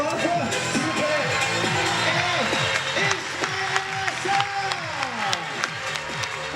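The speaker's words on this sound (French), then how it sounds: "Applaudissements pour Danir Yusupov, s'il vous plaît." Audience applause and crowd noise greeting Danir Yusupov at a competition event, steady clapping that fades toward sparser claps, with a voice talking over it.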